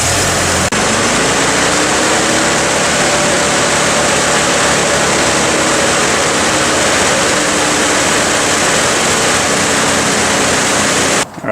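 A loud, steady engine runs continuously close by, a droning rumble with a faint whine, cutting off right at the end.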